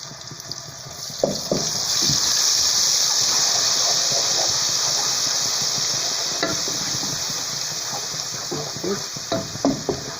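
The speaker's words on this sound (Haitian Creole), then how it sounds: "Je vais mettre un petit épice dans l'huile là." Spices crackle and sizzle in hot oil with a constant hiss while Haitian Creole rice and black beans are cooked, and a spoon scrapes and clinks against the pan now and then.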